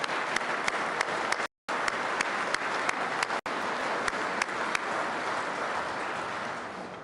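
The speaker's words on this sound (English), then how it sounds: "would you please join me in a round of applause for their hard work and dedication?" Steady audience applause fills a peace officer basic academy graduation ceremony, dense clapping with a few sharp single claps and two brief dropouts, no talk over it.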